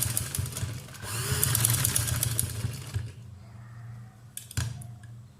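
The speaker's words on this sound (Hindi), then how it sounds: "पहले हम किसी भी इजाफी कपड़े पे इस तरह से सिलाई लगा के चेक करेंगे कि हमारी मशीन का टांका सही जा रहा है या फिर नहीं" A sewing machine stitches a test seam on spare cloth, a steady close mechanical whir with rapid needle clatter that runs for about three seconds, then stops, followed by a few handling knocks.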